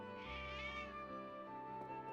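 A cat in the video game Triangle Strategy lets out a single drawn-out, wavering meow, fairly quiet and alone.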